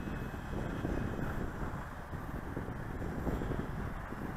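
Wind buffets the microphone outdoors at a park as a light Dynam C47 model plane flies, giving a steady, loud rumbling gust noise throughout with no clear engine tone standing out.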